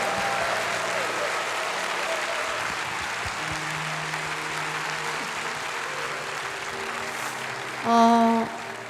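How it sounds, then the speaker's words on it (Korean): A church congregation claps in encouragement after the pastor's husband is introduced at a worship concert, a steady roomful of applause running throughout with a brief louder swell near the end. "격려의 박수 한번 부탁드릴게요."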